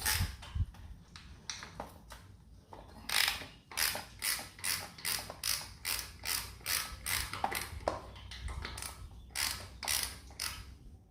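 Hand ratchet with a 7/16 socket backs out the air cleaner bolts on a motorcycle, rapid clicking strokes repeating in a steady rhythm, close and clear with no voices.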